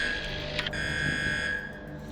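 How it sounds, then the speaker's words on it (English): An electronic alarm in the game Underrail sounds as a sustained high buzzing tone, fairly faint, with a short burst of noise partway through before the tone fades near the end, no speech. "Alarm sounded."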